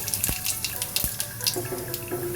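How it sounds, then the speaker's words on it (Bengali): Bay leaf and whole cumin seeds tempering in hot mustard oil, a close steady sizzle broken by sharp spitting pops and crackles at irregular moments, no talking. "সর্ষের তেল গরম হলে ফোড়নে দিচ্ছি তেজপাতা গোটা জিরে"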